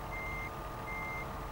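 A truck's reversing alarm beeps twice in a steady, even rhythm over a constant engine rumble in American Truck Simulator, clear and close with no talking.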